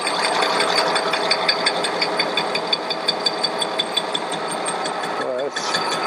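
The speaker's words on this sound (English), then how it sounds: "Well, that's really clunking all over the place." A running engine rattles and clunks steadily throughout during brake drum and drive plate alignment on an engine, with periodic knocking thumps, a brief dip near the end and talk underneath.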